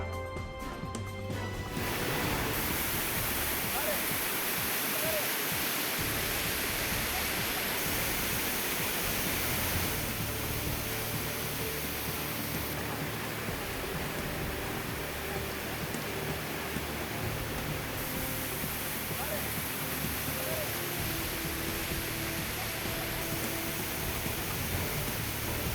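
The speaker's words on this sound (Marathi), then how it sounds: "पुरातन महादेव मंदिराजवळचा धबधबा पुन्हा प्रवाहित।" A waterfall near an ancient Mahadev temple, swollen after heavy rain, rushes in a continuous broad, even roar that stays steady from start to finish with no voices.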